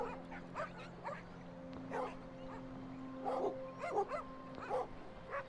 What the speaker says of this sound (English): She points at the dog tearing the fillet from its sibling.